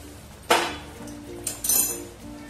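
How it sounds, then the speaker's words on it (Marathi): A lid lifted off a pot of stuffed capsicum cooking on a gas stove, giving a sharp metallic clink, followed by a couple of lighter scraping clinks of metal on metal, close and quiet. "आपण झाकण काढून बघूया."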